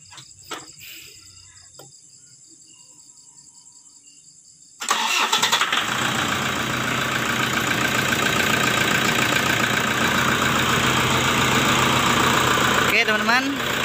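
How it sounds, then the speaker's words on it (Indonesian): A Toyota Fortuner that pulls weakly and blows black smoke cranks briefly and starts after a quiet stretch with crickets. It then idles loudly and steadily up close. "mesinnya sudah hidup ya"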